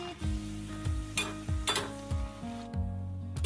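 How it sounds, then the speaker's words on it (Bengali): Jive goja sweets deep-fry in a pan until reddish, with a bubbling oil sizzle and regular light clinks and stirs of a utensil every half second or so. "এইভাবে সব গজাগুলোই আমি লাল লাল করে ভেজে নিচ্ছি"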